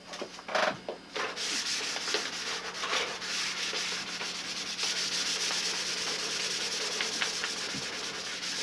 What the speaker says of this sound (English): what I'm doing on the wing is I'm just scuffing up the silver so I can get a real thin final coat on the wing